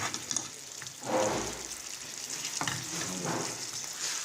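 Button mushrooms stirred in a hot frying pan make a constant close sizzle, with soft scraping and shuffling from the utensil rising in a few brief swells.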